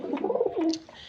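Pigeons in their coop give a soft, close coo that rises and falls in a short phrase, alone without talk.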